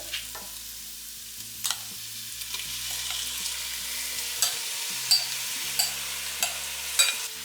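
Marinated paneer frying in a tomato-onion gravy for paneer biryani: a steady, close sizzle with a series of distinct scraping stirs toward the end.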